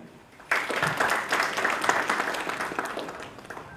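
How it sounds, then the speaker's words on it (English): An audience breaks into sustained applause at a border tourism white paper release event, the clapping starting abruptly after a brief quiet moment and continuing steadily as a dense, moderately loud wash of hands. "A big round of applause for Mr. Kamaraju"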